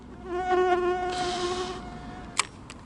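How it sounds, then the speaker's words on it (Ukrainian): Mosquitoes buzz around a lake shore during spinning-rod perch fishing, a steady close whine that drifts and fades, with a single sharp tap near the end and no talking. "Не витримує цих комарів вже просто"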